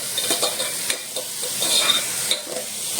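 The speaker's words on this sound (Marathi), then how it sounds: "ते चांगलं भाजून घेतो कांदा चांगला भाजावा" Onion, chilies and curry leaves fry in a pan, a bright steady sizzle with soft stirring scrapes and occasional pops, close up and without talk.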